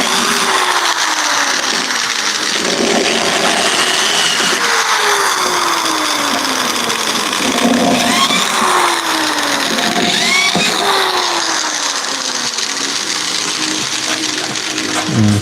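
An electric drill whines loudly and continuously, its pitch repeatedly sweeping downward in bursts as it bites into material, with no talking.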